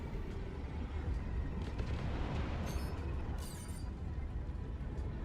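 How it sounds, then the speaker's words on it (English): Missiles striking a Hammerhead ship in the Star Citizen video game, fired from a Stinger, heard as a continuous low rumbling barrage of muffled booms and bursts with a few brighter crackles, fairly quiet and distant. "We're going to be hitting it with missiles first."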